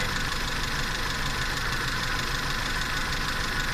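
Toyota 4K carburetor engine idling steadily while its idle speed and mixture are adjusted, a continuous close mechanical drone with an even, unbroken rumble and no talk.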